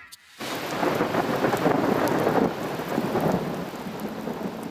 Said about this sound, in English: That is a lot of rain,